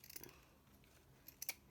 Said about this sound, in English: Take in your scissors, and you're just gonna cut